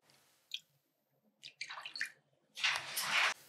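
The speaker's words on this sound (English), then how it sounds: "And to that, we're going to add 1 ounce of water." Water, an ounce of it, poured into a blue curacao mocktail mix for kids, heard as short splashes and a longer steady pour near the end, close and clear with no talking.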